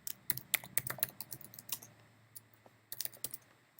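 Quiet, close keystrokes clatter on a computer keyboard in irregular bursts as a command is re-entered, with a short pause before a final flurry of keys.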